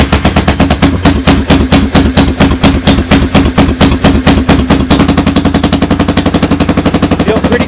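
A 1986 Honda Foreman 350 4x4 ATV's starter cranks the engine in a loud, steady, rapid rhythmic chug that speeds up slightly near the end, with no voices over it.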